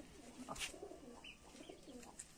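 Pigeons cooing softly, low throaty rolling coos with a faint chirp or two, heard close but quiet and with no voices.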